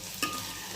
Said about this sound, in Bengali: মশলাটা দিয়ে আবার নাড়িয়ে গরম মশলাও দিয়ে দেবো একটু, আর একটু ঘি।